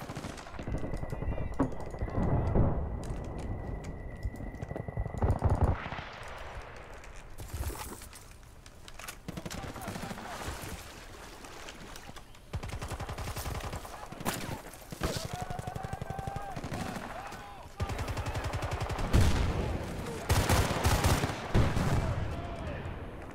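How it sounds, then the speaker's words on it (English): AI squadmates fire weapons in Battlefield: Bad Company 2, with repeated bursts of machine-gun and rifle fire, some distant booms, and a voice talking intermittently over the battle. "And of course the AI starts shooting at them."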